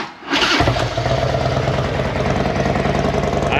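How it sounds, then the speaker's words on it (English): A motorcycle engine cold-starts after a brief quiet moment, catching quickly and settling into a loud, steady, throbbing idle close by. "let's see if we can't do a cold start for y'all"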